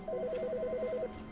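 A telephone in The Stanley Parable rings with a rapid warbling electronic trill that alternates between two tones for about a second, then stops. It sounds clear and moderately near over a low background hum.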